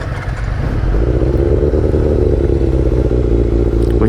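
A first-generation Yamaha R6 sport motorcycle with its stock exhaust revs hard and steadily, a loud, close, continuous high-pitched engine roar with a rattly edge and no talk over it.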